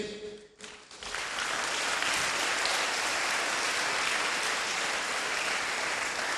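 A crowd at a Christian prayer gathering breaks into loud, sustained applause after a brief quiet moment, steady clapping filling the room until the end.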